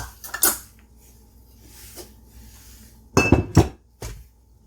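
A utensil clinks and scrapes against a bowl while dry pancake ingredients are mixed, in a few short, sharp bursts with quiet pauses between them.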